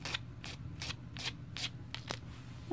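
Scissors snip the uneven edge of a crochet yarn placemat, a series of soft, crisp cuts repeating roughly every half second, close and fairly quiet over a low background hum.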